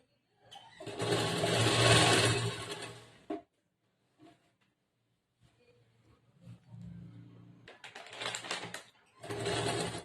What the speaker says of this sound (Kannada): ಇಲ್ಲಿನೂ ಮಾರ್ಕ್ ಮಾಡ್ಕೊಂಡು ಇವಾಗ ಇದನ್ನ ಕರೆಕ್ಟ್ ಆಗಿ ಸ್ಟಿಚ್ ಮಾಡ್ತೀನಿ